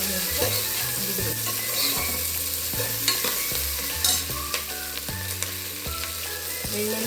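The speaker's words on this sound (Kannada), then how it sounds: "ತೊಳೆದು ಒತ್ತಿಟ್ಕೊಂಡಿದ್ದೀನಲ್ಲ ಬೆಂಡೆಕಾಯಿ, ಎಣ್ಣೆ ಫ್ರೈ ಆಗುತ್ತಿದೆ." Okra frying in hot oil in a pan, a steady close sizzle with repeated stirring scrapes and light clinks of a utensil against the pan.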